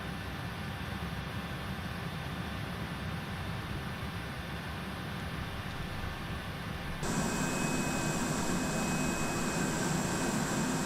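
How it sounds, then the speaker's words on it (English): Jet aircraft engine in Microsoft Flight Simulator 2020, a steady broadband roar that jumps louder and brighter partway through as the engine spools up, continuous with no talk. "I like the sounds of this"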